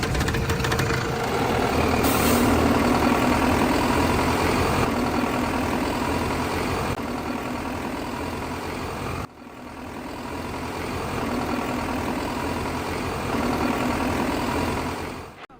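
A Tata truck engine idling in a factory production plant, a steady heavy diesel rumble with a knocking rhythm, loud and near, holding level with one brief dip midway and fading at the end.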